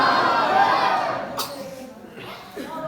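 A religious gathering crowd roars back in unison in answer to a Nara-e-Takbeer chant, a loud swell of many voices that fades after about a second, followed by further scattered shouting.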